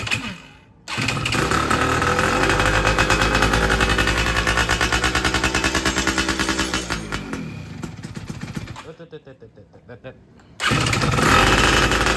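A two-stroke Yamaha F1ZR motorcycle under restoration fires up and runs with a loud, crackling, rapid putter that revs and fades, briefly drops out near the end, then roars back at full loudness.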